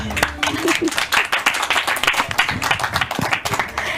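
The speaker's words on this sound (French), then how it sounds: "On applaudit pour lui." A TV studio audience claps during a Christmas special broadcast, brisk overlapping handclaps close by, loud and uneven, with a short voice heard near the start.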